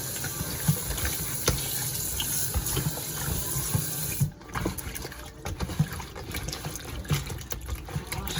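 Water runs steadily from a tap with splashing and dribbling as a lemon is rinsed beneath it, the flow briefly changing partway through.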